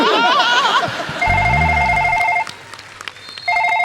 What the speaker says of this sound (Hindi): बाहर फोन आ रहा है सिक्योरिटी वालों का।